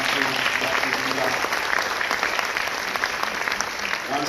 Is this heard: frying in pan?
no